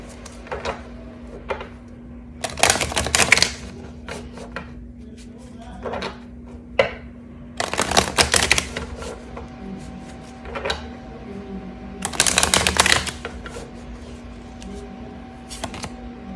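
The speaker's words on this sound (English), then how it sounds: "once all the cards are on the table, I will get into the channeled message" Tarot cards are laid out on a table in several bursts of shuffling, slapping and sliding, separated by quieter gaps filled with a steady low hum and occasional soft taps.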